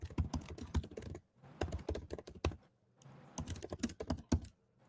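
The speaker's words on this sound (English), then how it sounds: "Okay, somebody's typing." Keys clatter on a computer keyboard in quick bursts of rapid clicks separated by short pauses, fairly faint and alone, with no voices.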